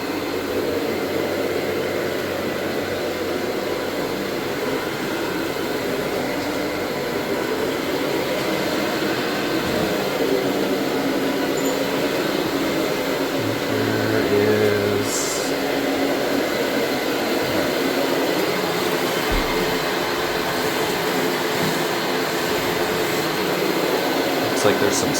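A carpet extractor machine pulls a stain out of carpet with a continuous, loud, close whining suction roar that holds steady throughout, with no breaks.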